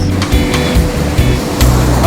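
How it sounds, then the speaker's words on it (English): Big ocean waves wash up on a beach near Harbor Cove in Ventura, with repeated low surging rumbles under a strong current and broadband roar, several pulses in quick succession. "Wow, these waves are just so big and there's just so much current"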